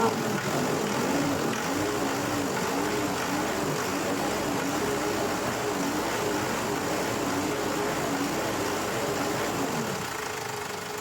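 A Ford Everest engine with its radiator cap off runs and is revved, giving a steady, fairly loud mechanical drone with slight rises and falls, heard close by throughout.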